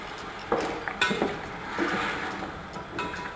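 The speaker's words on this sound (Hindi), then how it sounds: "थोड़ी सी मैं यखनी इसके अंदर डाल दूँगी, हाफ यखनी इसमें डालूँगी" Yakhni broth going into a pot of Kabuli pulao, with metallic clinks and scrapes of pot and utensils at close range along with a soft splashing, stirring wash.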